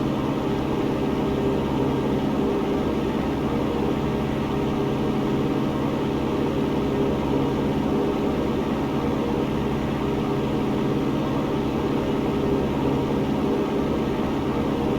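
Light airplane engine reduced to cruise power at 2,300 RPM during an instrument training flight, a loud, steady drone and hum heard from the cockpit with no variation.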